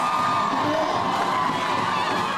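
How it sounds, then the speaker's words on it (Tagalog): A large crowd of supporters at a plaza rally for a city mayor in Caloocan cheers and shouts continuously, a dense, loud roar of voices with whoops rising above it. "Napuno ng hiyawan ng mga taga-suporta ng Team Aksyon at Malasakit ni incumbent City Mayor Along Malapitan ang Plaza Rizal sa Caloocan kanina"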